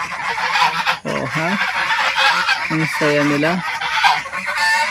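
Domestic geese kept on a small farm honk loudly in repeated short calls, close by, over a busy outdoor background, with a brief spoken comment.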